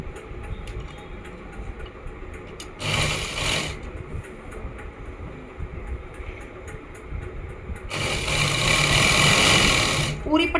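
A sewing machine stitches a fabric strip onto Afghani pants in two loud, steady bursts of rapid whirring, separated by a quieter stretch with faint ticking, while someone talks throughout.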